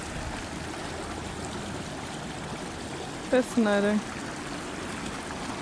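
River water flows steadily around stones in a New Zealand river after heavy rain, a continuous close rushing wash with a brief spoken word partway through.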